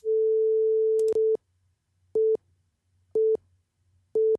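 A steady electronic tone from Cubase's test generator holds for about a second, then repeats as short 200-millisecond beeps evenly spaced roughly once per second.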